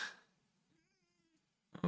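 A single cat gives a faint, drawn-out meow in a quiet room, followed by a short burst of louder noise at the end.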